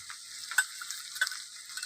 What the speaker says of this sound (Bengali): এবার আমি নেড়ে চেড়ে একটু ভাজা ভাজা করে নেবো